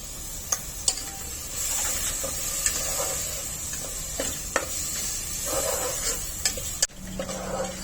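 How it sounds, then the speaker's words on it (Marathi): Ground masala paste for mutton kheema fries in hot oil with a steady, soft sizzle, broken by scattered light ticks and clicks of stirring; there is no speech. "वाटण तेलामध्ये चांगलं परतून घ्यायचंय"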